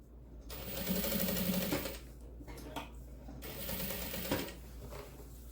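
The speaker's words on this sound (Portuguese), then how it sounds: "E vou costurando com o pé de máquina" A sewing machine stitches a tote bag strap in two loud, fast runs of close mechanical whirring and clatter, separated by a short pause with handling noises.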